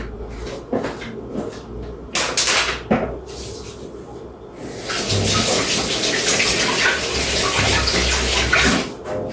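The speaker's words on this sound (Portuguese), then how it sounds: "vou lavar a mão aqui, secar bem e pegar a minha luva" Hands are washed under a running kitchen tap, water hissing steadily and close for several seconds, after earlier knocks and clatter like cupboard doors and items being moved.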